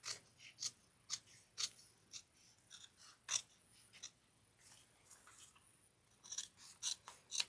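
Scissors trim the edges of fabric for a slouchy shoulder bag held with clips. Quiet, close snips and rasping cuts come in an irregular series, with no talking.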